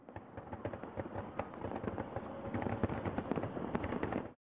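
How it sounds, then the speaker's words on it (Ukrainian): Ammunition cooking off at a burning weapons depot, a continuous crackling series of pops and bangs of varying loudness that builds slightly before cutting off abruptly. "Там сталася пожежа та кілька годин детонувала зброя рашистів"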